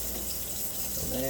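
Tap water running while rice is rinsed and strained in a kitchen, a soft continuous splashing trickle close by that swells slightly toward the end.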